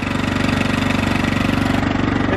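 A riding lawnmower engine runs steadily close by, a loud, rapid, even chugging throb that keeps going without a break.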